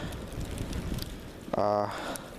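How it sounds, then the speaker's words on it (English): Strong blizzard wind roars steadily across the whole stretch as a dense, rushing outdoor noise, with a brief tonal, voice-like sound rising near the end. "there's a lot of wind too"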